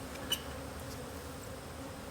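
Honey bees flying around a hive while a nucleus colony is installed, a faint, steady insect hum with one brief tap, quiet and without speech.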